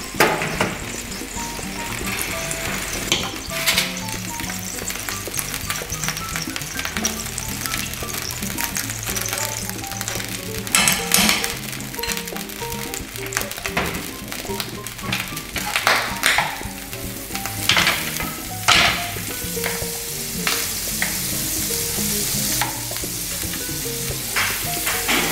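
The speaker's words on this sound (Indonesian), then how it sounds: "yang kedua akan kita panaskan margarin" Margarine heating in a pan for a snack or appetizer, with a steady, busy sizzle and frying crackle running throughout, joined by occasional clinks and stirring knocks, fairly close.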